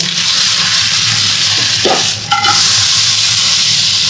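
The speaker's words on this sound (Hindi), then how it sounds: "यहाँ पे ये आलू फ्राई हो रही है" Steady, loud sizzling of potatoes frying in a pan, with a brief scrape of stirring partway through.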